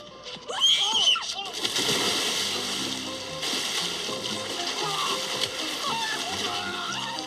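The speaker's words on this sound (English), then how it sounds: "this is the scene where Carrie and Big fall into the water together" Splashing and sloshing as people fall into water in a Sex and the City film scene, with a shriek at the start followed by churning water and voices talking underneath.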